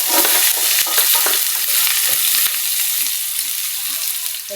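Garlic sizzles and crackles in a hot pan while being stirred, a busy close frying hiss with scraping strokes that settles into gentler popping toward the end.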